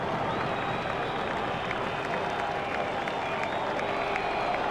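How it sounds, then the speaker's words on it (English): In the video game EA Cricket 2002, a stadium crowd applauds a boundary four with steady, dense clapping and cheering that holds at an even level throughout. "The crowd really enjoyed that shot."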